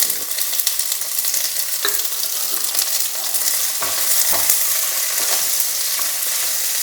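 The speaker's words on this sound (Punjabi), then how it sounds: "ਜੀਰਾ ਆਪਣਾ ਤਿੜਕ ਜਾਂਦਾ ਤੇ ਮੈਂ ਗਾਜਰ ਤੇ ਪਿਆਜ਼ ਜਿਹੜੇ ਮੈਂ ਸਲਾਈਸ ਕਰਕੇ ਰੱਖੇ ਸੀ ਉਹ ਪਾ ਦਿੰਦੇ ਹਾਂ" Sliced carrots and onions fry in hot oil with crackling cumin seeds for a mushroom quinoa dish, a bright, steady sizzle with stirring scrapes and sharp pops, close up and with no talking.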